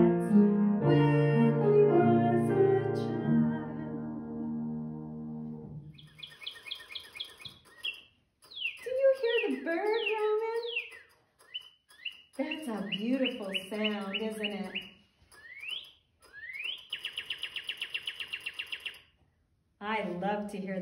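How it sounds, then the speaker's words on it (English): Birdsong made up of varied chirps, sweeping tweets and rapid trilled phrases in bursts separated by short pauses, preceded by a sustained low harmonic tone, moderately loud and close. "I love to hear the birdies sing"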